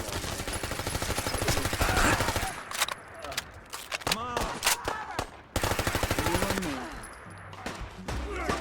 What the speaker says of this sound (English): Accidentally stumbled into a super mutant and Diamond City guard shootout